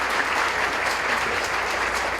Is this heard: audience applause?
yes